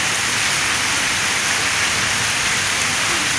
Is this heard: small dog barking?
no